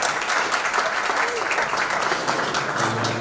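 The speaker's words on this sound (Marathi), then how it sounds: "सर्व श्रोत्यांसाठी एकदा आपण टाळ्या वाजवूया" Sustained applause from an audience at a Marathi poetry gathering, dense steady clapping filling the room for a few seconds with no break.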